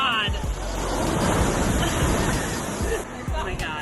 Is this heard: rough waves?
yes